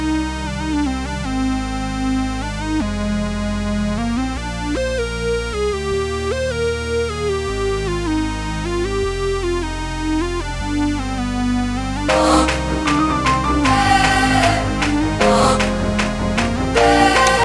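Juno 6V software synth chords with a lead line layered over them, the lead melody moving above sustained harmonies, then a fuller, brighter section kicks in near the end; loud and continuous with no talking.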